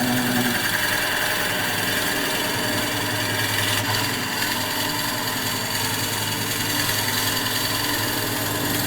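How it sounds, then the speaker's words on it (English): A Forstner bit bores into wood, giving a steady, loud whir of the drill motor and cutting that runs without a break, with a small change in tone partway through. "This is why I like this Forstner bit, because it's ejecting the shavings, right?"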